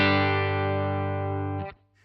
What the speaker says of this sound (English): let me just let you hear the clean sound again